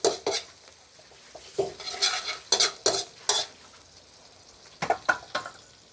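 Chinese kale and crispy pork being stir-fried in a pan, with repeated scraping spatula strokes against metal and bursts of sizzling in uneven rhythm, close and fairly loud with no talk.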